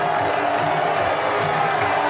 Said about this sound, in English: the crowd are going nuts here